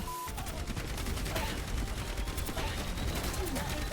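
Torbjörn's automated turret in Overwatch 2 fires a rapid, continuous stream of shots, crackling bursts layered over busy game sounds at moderate distance.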